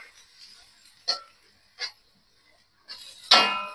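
A few short, sharp coughs spaced irregularly close by, the last one louder and more drawn out.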